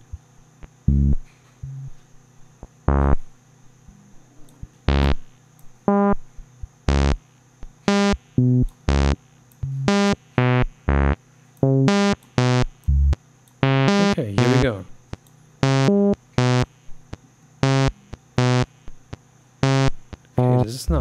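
A modular synthesizer step sequence in VCV Rack runs through a filter, playing as rhythmic, buzzy pitched notes in a steady pattern with varying pitches and short decays over a constant background hum.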